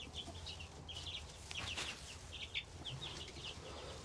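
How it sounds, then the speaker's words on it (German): Young chicks peep under a red heat lamp on a farm, a scattering of soft high cheeps repeated through the moment, faint and fairly close with quiet rustling beneath. "Genau, kleiner Hühnernachwuchs."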